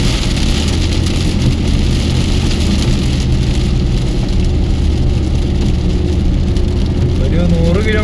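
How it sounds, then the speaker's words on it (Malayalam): Heavy rain drumming steadily on a car while driving on a wet road in Dubai, a dense constant wash of drops over low engine and tyre rumble, close and loud throughout. "മഴയുടെ സൗണ്ട് കേട്ടോ, അത്യാവശ്യം വലിയൊരു മഴ പെയ്ത പ്രതീതിയായി റോഡിലൊക്കെ"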